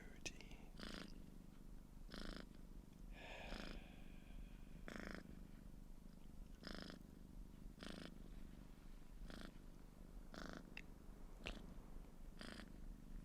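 A soft whispered voice imitates a cat's purr in slow, evenly spaced breathy bursts, about a dozen of them, close and quiet over a low steady hum.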